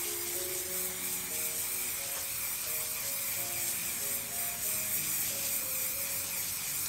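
Spray varnish hisses steadily onto a fluid art painting made with metallic paint, a continuous close spray over quiet background music, with no talk.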